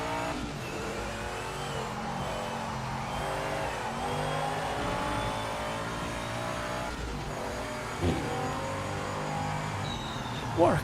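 Race car engine from the sim game Project Motor Racing screams at high revs through gear changes, with tire noise and passing cars, loud and continuous, while a player talks occasionally over it.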